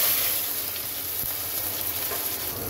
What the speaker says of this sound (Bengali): এখন দিয়ে দেব কেটে রাখা পেঁয়াজ আর কাঁচা লঙ্কা।